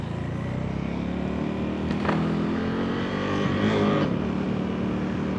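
Steady road traffic with cars passing close by, a continuous engine and tire rumble that swells as individual vehicles go past, with no talk.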